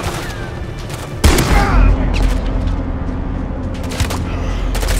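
Shotgun blasts from the Call of Duty MW3 campaign: a heavy boom near the start, then sustained booming gunfire and battle noise, with another sharp blast later, all loud and close.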